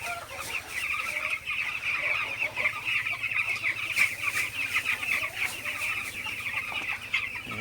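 A flock of 14-day-old broiler chickens clucks and chirps steadily, a dense chorus of many birds close by, with occasional louder calls over a low hum.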